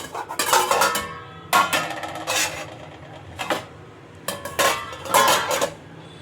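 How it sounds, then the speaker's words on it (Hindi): Metal bowl set down and scraped inside a metal pan on a stovetop while making no-oven mini chocolate cakes, producing several close clanks and rattling scrapes in uneven bursts with short pauses. "यहाँ पे कटोरी डाल दी"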